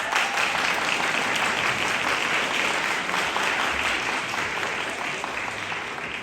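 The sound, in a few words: applause from concert audience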